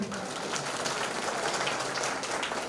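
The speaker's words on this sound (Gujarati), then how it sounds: "તો એમને પણ તાળીઓથી વધાવી લઈએ" Crowd applause at a police camp farewell ceremony honouring a retiring bomb disposal squad officer, a steady dense patter of clapping from many hands throughout, fairly distant and even.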